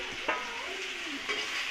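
Salted hilsa fish pieces fry in hot oil with a close, steady sizzle and a couple of short spatula scrapes.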